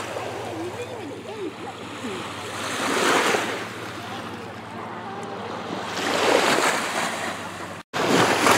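Wake waves from a passing boat wash in on Lake Michigan at Little Sable Point, a steady surf rush with two louder swells, wind noise and a low hum underneath.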